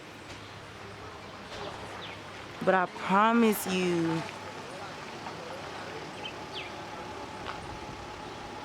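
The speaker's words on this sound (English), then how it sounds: "you can hear the birds" Birds call in El Yunque rainforest in Puerto Rico, faint chirps spread through the clip beneath a steady wash of ambient noise, with a few louder calls in the middle and brief speech.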